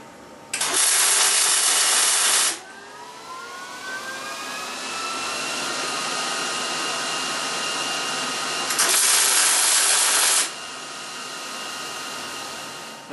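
Tack welding a vise onto a leg vise in a shop, two loud harsh bursts of roughly two seconds each with a steady droning hum continuing between and after them.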